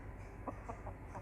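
A fighting rooster, a Khmer game cock offered for sale, gives several soft, short clucks in a steady rhythm, fairly faint and close against low background noise.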